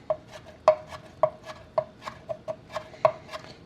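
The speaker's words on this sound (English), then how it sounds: "You also want to chop into small pieces." Vegetables for a fresh corn salsa being chopped with a knife on a cutting board: a quick, steady series of about a dozen sharp close taps, alone without talk.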